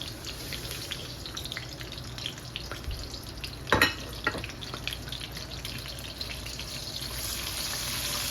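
Spiced shrimp and fresh red greens from the garden frying in a pan, a continuous close sizzle and crackle with a sharp scrape of stirring midway, no one speaking.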